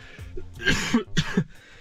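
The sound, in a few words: cough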